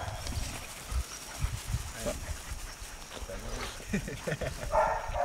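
Dogs bark in short bursts at close range amid background chatter and movement, with people talking throughout.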